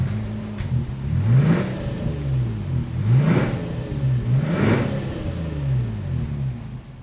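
A 2026 Kia Carnival's exhaust rises and falls through three revs, each swelling to a peak and settling back to a steady idle, heard up close with no talking.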